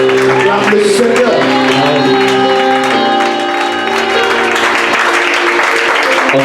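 A church congregation claps and cheers in praise, loud sustained applause with shouts, with music playing steadily underneath throughout.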